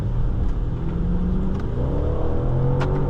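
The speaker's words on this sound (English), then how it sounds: "And that V8 sounds great too." A 2019 Maserati Levante Trofeo with a 590 hp V8 accelerates on a test drive, its engine note climbing steadily over a constant road rumble, loud and close from inside the cabin.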